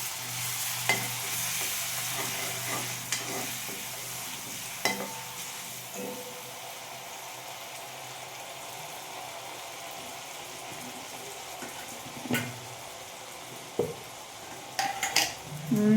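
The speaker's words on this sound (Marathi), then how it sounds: "आधी हिरवी मिरची, लसूण, नाचा ठेचा टाकतो आहे." Crushed green chilli and garlic paste sizzles steadily in hot oil in a pan for a methi and cauliflower dish, with occasional clinks of a spoon stirring against the pan.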